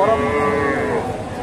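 A Friesian heifer at the Dakumara cattle market in Bogura lets out a single loud, close, drawn-out moo against a busy market background.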